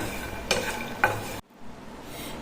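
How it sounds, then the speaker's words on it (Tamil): Roasted peanuts are stirred in a dry pan, giving a steady dry rustle with two sharp scrapes of the spoon, and then the sound drops away abruptly partway through; close and moderately loud, with no talk. "நல்லா வறுபட்டுடுது இந்த வேர்க்கடலையை"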